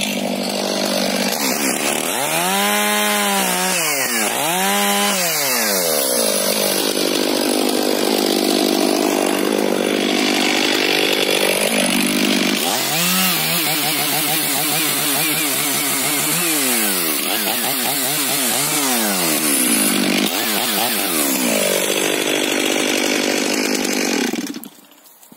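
STIHL MS 500i chainsaw cutting wood in a forest, loud and close, with repeated revving swells between sustained high-pitched cuts before stopping abruptly at the end.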